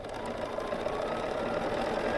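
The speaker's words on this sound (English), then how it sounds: "I'm going to put my ruler down, my needle down first, put my ruler down, and I'm going to stitch out" A BERNINA sewing machine stitches steadily during free-motion quilting with a ruler on fabric, a fast, even, continuous mechanical whir heard up close with no talking.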